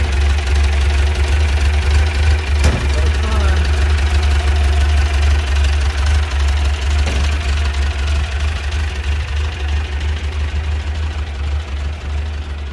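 Air-cooled engine of a 1967 Volkswagen Beetle in Cal Look style idling steadily, a loud, close, low rumbling drone with an uneven lope that continues throughout without a break.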